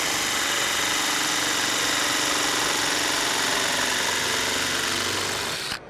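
A drill-driven hammering attachment runs continuously while flattening a car door hem, a loud, rapid, even buzzing rattle that cuts off at the end.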